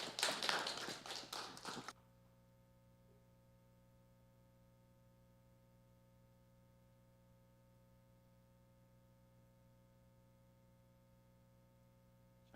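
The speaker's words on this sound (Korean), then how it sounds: "우리 전도사님 나오실 때 우리 힘차게 격려의 박수 보내주시면 감사하겠습니다." A church congregation at a Friday evening service applauds to welcome the preacher. The clapping is a dense burst lasting about two seconds, then it stops abruptly and leaves a near-silent hall with a faint electrical hum.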